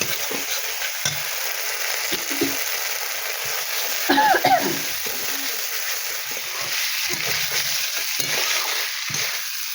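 A spice paste of ginger, cumin, chilli, poppy seed and nut paste being sautéed with fried potato, pointed gourd and paneer, with a soft steady sizzle and occasional stirring and scraping noises, close by.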